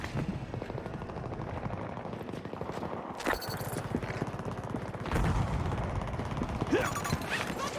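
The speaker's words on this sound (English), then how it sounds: "I'm under fire!" Gunfire crackles in a Battlefield 2042 Conquest match on the Exodus map, steady bursts under a dense battle din with sharper cracks and brief radio-style voice callouts.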